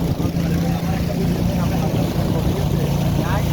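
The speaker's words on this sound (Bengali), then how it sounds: "বন্ধুরা বোটের ইঞ্জিনের কিন্তু ফোর্স খুব সাংঘাতিক" A motorboat engine drones steadily and loud throughout on a mountain river, a constant low roar with rushing water noise and no break.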